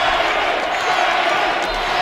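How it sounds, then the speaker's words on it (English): A boxing crowd roars and cheers at the end of a fight's fifth round, a dense, steady wash of voices with no break, loud and sustained throughout. "The crowd going crazy here"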